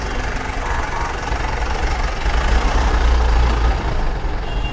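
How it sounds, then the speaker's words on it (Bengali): Congested road traffic with trucks, buses and ambulances crawling along gives a loud, continuous low engine rumble and diesel clatter, swelling midway as heavier vehicles pass close. "এই রোডটার মধ্যে সব গাড়ি ঢুকছে দেখেন, সব অ্যাম্বুলেন্স অ্যাম্বুলেন্স, বাস, ট্রাক, যা যা আছে কোনো কিছু বাদ নাই।"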